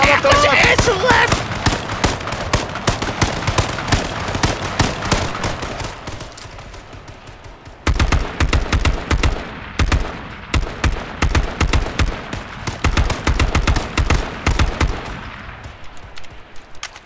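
Rapid gunfire in the video game H1Z1 rattles in dense bursts of sharp shots, dropping briefly and then returning loud and sustained, with occasional voices underneath.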